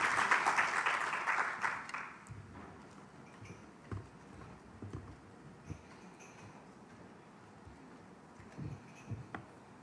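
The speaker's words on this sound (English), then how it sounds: "Please welcome her again with a round of applause." A conference audience applauds to welcome a speaker, a brief burst of clapping that fades within two seconds, followed by sparse faint taps and room noise.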